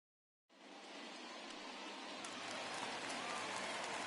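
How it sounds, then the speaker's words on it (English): Rain in a baseball video game's ballpark ambience, a steady wash of falling rain with scattered droplet ticks that starts abruptly after a short silence and holds at a moderate level. "There is rain in the area"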